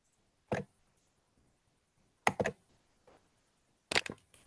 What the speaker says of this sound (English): The keyboard's very loud.